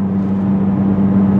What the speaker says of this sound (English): All the noise you hear here is just my exhaust